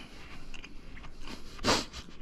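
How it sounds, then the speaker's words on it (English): Someone bites and chews a flaky, crumbly almond pastry close up, soft mouth sounds building to one loud crunchy bite near the end, no talk. "Now you get to hear me chew."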